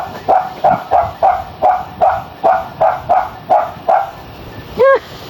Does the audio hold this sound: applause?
no